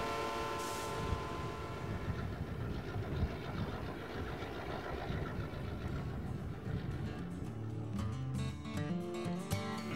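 A Nevada Northern Railway train on a ride near Ely, Nevada, heard as a steady rumble of rail cars rolling along, with no talk over it.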